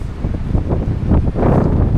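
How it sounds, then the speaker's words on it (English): Gusty wind on the Fife Coastal Path at Macduff's Castle ruins, East Wemyss, roars against the microphone in a steady low rumble, swelling slightly toward the end, with no voices. "Bit of a windy day."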